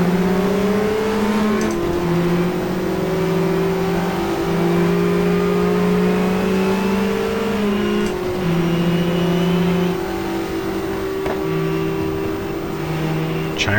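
Lotus race car engine in the racing game GTR2 at Jarama, a loud steady drone that holds at high revs with small pitch shifts and gear changes, running continuously and alone.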